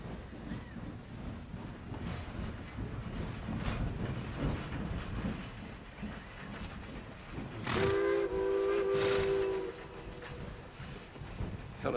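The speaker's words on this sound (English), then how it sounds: "Quick now, while the train pulls in." A steam-era train draws into a station, a steady rumble of rolling stock and hiss building before a loud, sustained whistle blast sounds near the end, then the clatter continues.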